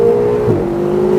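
A Lotus car powers out of a corner on a race track, with a loud, steady engine tone that dips briefly at a gear change and then holds on again, heard close from inside the car.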